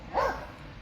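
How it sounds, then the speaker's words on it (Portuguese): A dog gives a single short bark, close and fairly loud, over a steady background hum. "Encontraram um bocado de cachorro aqui."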